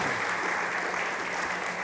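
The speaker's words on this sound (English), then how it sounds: "big applause to Mihai." Audience applause at a startup conference stage event, a dense, even wash of many hands clapping throughout, with no voices over it.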